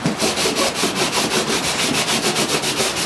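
Fish-skin parchment made from salmon skin is sanded by hand, rhythmic back-and-forth scraping strokes repeating steadily, close and fairly loud with no voice.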